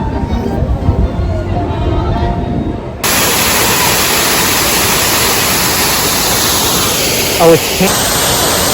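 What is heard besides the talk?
waterfall in the Canada Pavilion at Disney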